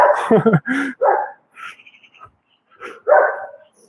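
A dog barks and yips several times up close, loud and irregular, with some short whimpering sounds and quieter gaps mixed in between.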